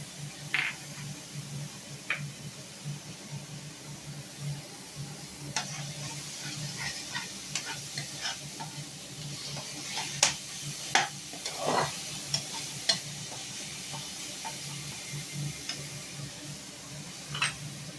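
Onions frying in a little oil with sugar added, a soft steady sizzle under scattered spatula taps and scrapes against the pan as they are stirred.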